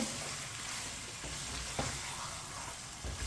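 Chicken fries in a hot pan over high heat with a steady, loud sizzle while a spoon stirs it, adding a few faint scrapes and knocks under the constant frying hiss.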